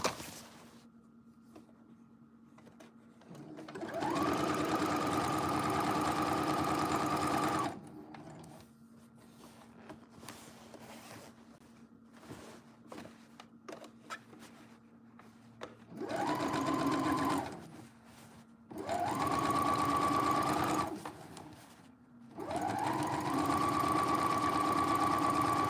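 Sewing machine or serger stitching fabric pieces together: four bursts of rapid, whirring mechanical stitching, the first about four seconds long and the later ones shorter, separated by quieter stretches of clicks and handling, close and clear.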